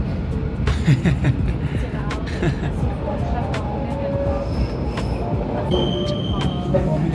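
A Swiss train rumbles steadily with a low, continuous roar and occasional squeals and clanks, heard from inside a carriage on the way to Lugano, with people talking over it.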